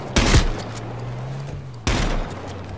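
Two loud gunshot bursts in the survival shooter H1Z1, the first a sharp crack with a short rattle, the second a blast about a second and a half later, with a faint engine hum between them.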